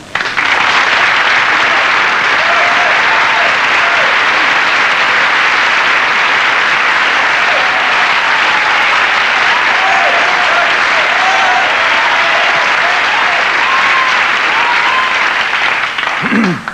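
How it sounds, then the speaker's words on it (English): Studio audience applause on a 1984 television talk show, loud and sustained for about seventeen seconds, a dense wash of clapping from a large crowd that fades at the end. "not too many bits of applause for people who just come on and perform"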